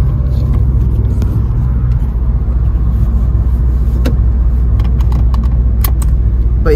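Inside a 2010 Honda Civic Si four-door, sharp metallic clicks of a seatbelt buckle sound over the car's low, steady engine rumble, with a few scattered taps and rattles nearby.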